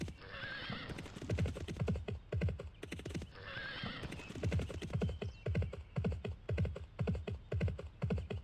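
Horse whinnies and galloping hoofbeats from the Barbie Race and Ride video game, a loud neigh opening each of two repeating passages, followed by a steady rhythmic clip-clop of hooves throughout with no talking.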